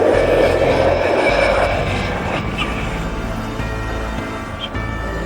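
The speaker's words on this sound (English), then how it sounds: "Is this the shortest takeoff you've seen an AN-2 make?" An Antonov AN-2 biplane's radial engine drones loudly during a short takeoff run, a steady low roar that eases slightly as it continues.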